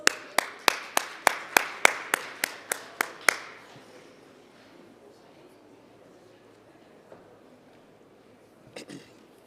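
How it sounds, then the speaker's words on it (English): About a dozen evenly spaced, sharp single claps at a skills conference, loud and close for roughly three seconds, then fading into quiet room tone with a faint clatter near the end. "Hand of applause."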